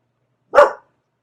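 A single short dog bark rings out in a residential courtyard, one sharp isolated bark against otherwise silence, fairly close and clear.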